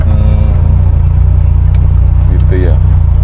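A lowered 1989 BMW 318i with a manual gearbox drives along, its engine a steady, loud low rumble throughout, with people talking inside the car over it.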